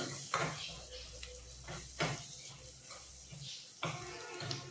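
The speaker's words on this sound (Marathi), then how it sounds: "हे आता आपल्याला व्यवस्थित असं परतून घ्यायचं" Malvani masala with chilli powder being stir-fried in oil in a pan, a soft steady sizzle with intermittent scraping and stirring clatter of a spoon against the vessel, fairly quiet and close.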